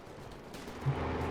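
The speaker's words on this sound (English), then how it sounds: "he just called the artillery barrage there" Distant artillery barrage fire in Company of Heroes 2 rumbles in a dense, low wash, with a faint thump standing out briefly in a short stretch of battle noise.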